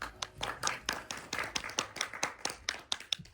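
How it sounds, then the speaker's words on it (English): Applause at a talk on green technologies and competition law, sparse and uneven, with distinct individual claps standing out rather than a dense roar, quiet and steady for a few seconds. "a round of applause"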